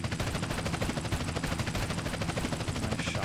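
Gunshots in the video game GTA San Andreas ring out as a dense, continuous stream of rapid automatic fire, loud and close, with no talking.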